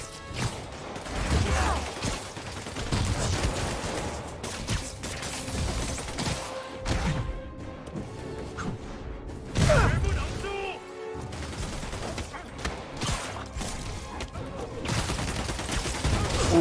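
Gunfire in the video game Spider-Man Remastered, with bursts of shots, crashes and clattering impacts in a busy fight scene; a voice speaks over the action.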